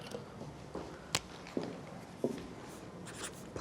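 A pen or pencil scratches out handwritten notes on paper, soft and close, with short strokes and a few sharper taps against a quiet, hissy background.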